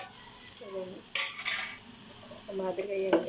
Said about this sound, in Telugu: ఈ దొండకాయలు ఎలా ఫ్రై చేసుకోవాలండి.